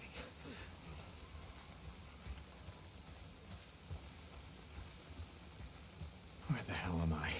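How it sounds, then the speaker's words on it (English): Steady rain falls in the zombie survival video game Days Gone, a constant hiss of drops on surfaces with soft patters, and someone speaks over it near the end. "If it's not the freaks, it's the goddamn rain. Why is it always raining?"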